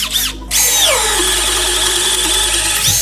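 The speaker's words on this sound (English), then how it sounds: "Now we'll show you the new M12 fuel drill." Milwaukee M12 Fuel drill boring a 7/8 ship auger into SPF lumber, a brief rev and pause, then a loud, sustained high motor whine under load that drops slightly in pitch and holds close and steady.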